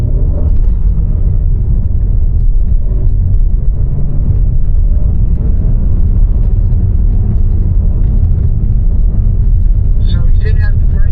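Two BMW cars accelerating on a driving school track in Spartanburg, a loud steady engine and road rumble that fills the whole stretch, with voices talking over it.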